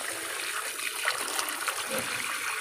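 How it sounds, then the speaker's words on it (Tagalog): Water added to a washing machine during a home repair check for leaks, heard as a steady soft hiss and trickle at moderate distance, fairly quiet and continuous. "Yan, lagyan lang namin ng tubig. Kunti lang."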